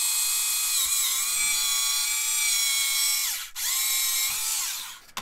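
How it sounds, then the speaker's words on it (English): A small drill bores a hole in a plastic Bandai 1/144 Star Wars AT-AT model kit, whining loud and high for several seconds, dipping in pitch as it bites and briefly cutting out before spinning again. "he's just drilled a hole in a Star Wars kit."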